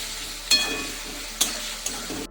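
Shrimp and spices for a cabbage chorchori fry in a pan, with a quiet, steady sizzle broken by three sharp scraping stirs of a utensil.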